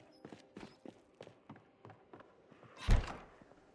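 A door in the video game Project Zomboid shuts with a single solid thunk near the end, preceded by a series of soft, irregular clicking and tapping footsteps.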